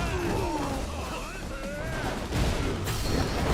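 Shotgun blasts from enemies in the video game Yakuza Kiwami 2, a dense clatter of gunfire and crashes mixed with in-game voices and music, steady and fairly loud throughout.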